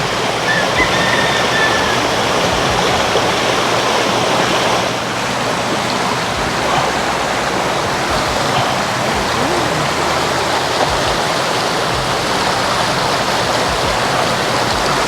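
Steady broadband rush of a river flowing through Kamada, running close and constant throughout with no voices over it.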